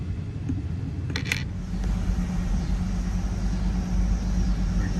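A rebuilt, previously totaled Ford F-350 truck drives in gear with a steady, close engine rumble and road noise, plus a brief metallic rattle early on.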